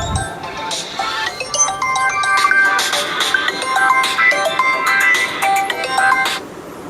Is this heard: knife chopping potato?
no